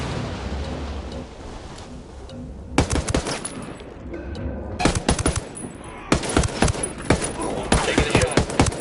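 Gunfire in the shooter Ghost Recon Wildlands: rapid automatic bursts crack out in clustered volleys, loud and close, separated by brief lulls filled with rumbling ambience.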